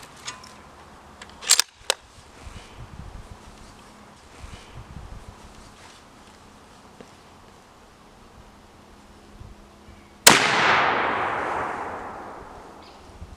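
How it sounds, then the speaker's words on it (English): A Winchester Model 70 rifle fires low recoil ammunition outdoors: one loud, sharp report followed by a long, fading echo rolling away into the distance, with faint wind and handling noise beforehand. "when the gun goes off, these things take some of the recoil away from your shoulder"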